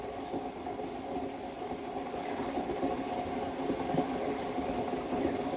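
Water for raw pu-erh tea bubbles at a rolling boil, a soft, continuous seething with no breaks and no voices.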